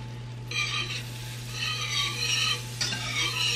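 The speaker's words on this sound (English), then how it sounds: "And get this butter nice and melted." Butter melting in a hot pan, a soft intermittent sizzle in bursts with light stirring, over a steady low hum.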